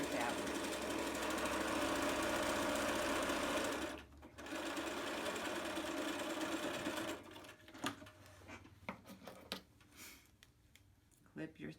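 Sewing machine edge stitching the raw edge of a fabric face mask: a loud, steady mechanical whir running continuously, briefly pausing, resuming, then breaking into slower, uneven clicks and thumps as it stops.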